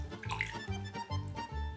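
Water is poured into a bowl of fish batter, a short burst of gurgling, splashing liquid in a few uneven pulses, close by and fairly quiet.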